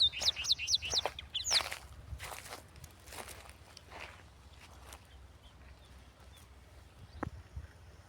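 Sparrows chirp at a well in quick bright bursts early on, then grow sparse, leaving quiet outdoor ambience with a few soft scuffs and one late chirp.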